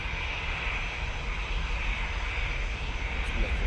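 A departing airliner climbs out from Manchester Airport bound for Ivalo in Lapland, its engines a steady broadband roar that holds level and fairly loud throughout.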